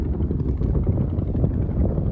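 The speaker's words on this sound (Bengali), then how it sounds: "আর প্রচুর জোর বাতাস উঠেছে বন্ধুরা দেখুন" Strong wind on a riverbank at night during the rainy season buffets the microphone, a constant low roar with gusty rumble and no other clear sounds.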